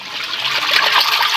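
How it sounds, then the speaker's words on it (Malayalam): Water trickles steadily into a pan of fresh fish, a close, continuous pouring splash lasting about a second and a half with no voices. "നമ്മൾ ഇച്ചിരി വെള്ളം ഇങ്ങോട്ടൊന്ന് ഒഴിക്കാം"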